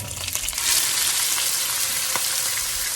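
Lemongrass and blended curry paste for a Malay fish curry fry in hot oil, giving a steady, dense sizzle that swells loudly within the first half second and holds close and continuous, with a few faint stirring clicks.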